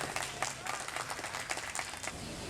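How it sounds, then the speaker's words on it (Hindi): An audience at a college Defense Day ceremony in Multan claps for prize winners of a speech contest, a steady patter of many hands, moderately distant and fairly even throughout. "बहुत सारी तालियां"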